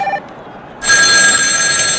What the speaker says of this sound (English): Is that us? Is that our phone?